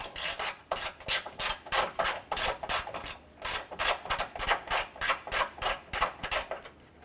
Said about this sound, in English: Loosen and remove these bolts.